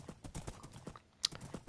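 Horse hooves clip-clopping in the Minecraft video game, a quick steady run of light, fairly quiet hoofbeats with no talk over them.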